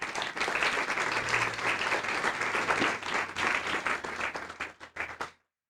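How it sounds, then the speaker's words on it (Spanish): A church congregation applauds with dense, sustained clapping that carries on for several seconds before tapering off and stopping abruptly. "Dele un aplauso al Rey."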